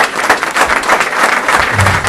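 Audience at a North Miami city council meeting gives brief, fairly loud applause, a dense patter of many hands clapping together with no break.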